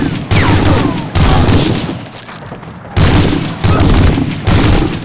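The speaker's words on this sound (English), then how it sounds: "you got shot at by like, I don't know how many rounds of 30-06 from this BAR" Bursts of .30-06 rifle fire from a BAR in Medal of Honor: Frontline, several loud rapid volleys separated by brief pauses, with booming echoes filling the gaps.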